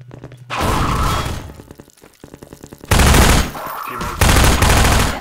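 Loud bursts of rapid automatic gunfire in Half-Life 2: Episode One, in two long volleys separated by a short lull with quieter clatter.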